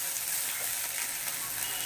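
Garlic paste and ginger-cumin paste sizzle in a hot pan, a dense, continuous bright frying hiss, loud and close, with no voices.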